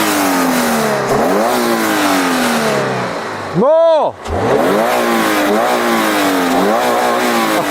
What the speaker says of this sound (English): Go on, start it up, let's hear some revs.